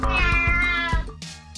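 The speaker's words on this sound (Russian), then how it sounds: "вместо того, чтобы лаять, басенджи воет, визжит и даже немного мяукает" A basenji dog gives one close, drawn-out, meow-like yowl lasting about a second, followed by a short burst of noise.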